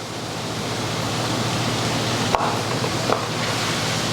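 Onions tossed onto seasoned meat in a pan sizzle with a steady, even hiss, broken by a couple of soft taps, with no talk.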